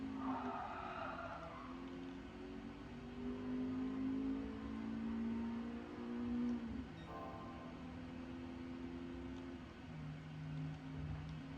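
A Honda race car in a racing video game revs through gear changes with a rising and falling engine whine, a tire skid in the middle, heard steadily without talk.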